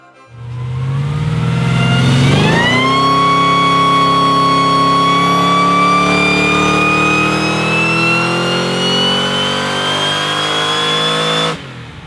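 A car engine with a ported GM-style blower supercharger pulls hard on a dyno, a loud rising whine and roar that climbs steadily for about nine seconds before cutting off abruptly.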